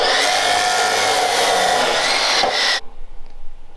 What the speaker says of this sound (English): let's put these in the chop saw. Let's cut them.